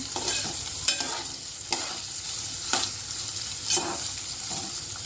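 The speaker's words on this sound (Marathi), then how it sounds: "आता हे आपण परतून घेऊ असं. मग मीडियम गॅस करायचा आहे." Food sautéing and being stirred in a pan over a medium gas flame, with a steady sizzle and four or five scraping stirs spaced about a second apart, close and fairly quiet, no talk.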